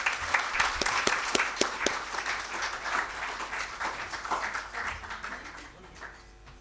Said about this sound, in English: So can I request you to please give him a round of applause for...